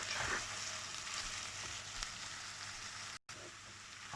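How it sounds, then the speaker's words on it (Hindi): Ginger garlic paste fries in hot oil for reshmi chicken, giving a soft, steady sizzle that stays faint and even, with a brief dropout near the end. "अब इसमें डालेंगे ये जो जिंजर एंड गार्लिक पेस्ट।"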